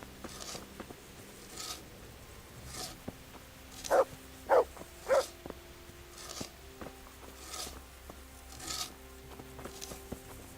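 A dog barks three times in quick succession, fairly close, in the medieval game Kingdom Come Deliverance, with faint footsteps, rustling and background ambience around the barks.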